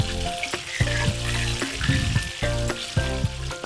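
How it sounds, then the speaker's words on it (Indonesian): Fish pieces coated in flour frying in hot oil, a steady loud sizzle with crackling bursts and occasional clinks of a utensil, no talking. "ini kita goreng sampai dia golden brown atau kecoklatan"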